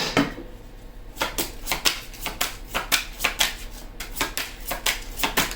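A deck of tarot cards is shuffled close by, with crisp riffling bursts coming in a quick, uneven rhythm after a short pause.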